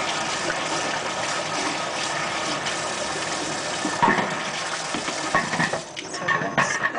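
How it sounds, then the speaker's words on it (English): Tap water running over a juicer blade being rinsed in a sink, a steady loud splashing stream with a few light metallic clinks toward the end. "So rinse that off."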